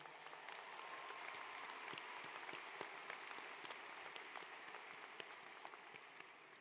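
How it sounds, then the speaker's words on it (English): Applause from the audience at a Florida State University commencement ceremony, honoring the families and supporters of graduates; a steady wash of many hands clapping, heard at a distance and fairly quiet, with distinct individual claps standing out. "So round of applause for them as well."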